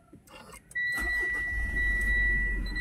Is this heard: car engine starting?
yes